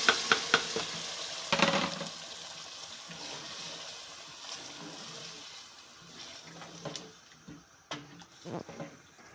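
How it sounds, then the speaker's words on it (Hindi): Boiled chana dal tipped into fried masala in a pan and stirred, giving a soft sizzle with scraping stirs, a few sharper clatters near the start and later on, and no talking. "अब हमने जो उसके चने की दाल बॉयल करके रखी थी उसको हम डालेंगे।"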